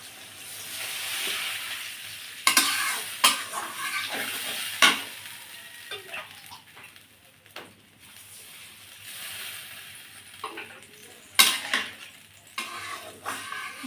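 Water poured into a pan of fried spice masala for a Bengali tilapia fish curry with taro, followed by stirring scrapes, spoon clinks and a low bubbling simmer, close up with irregular bursts of utensil noise.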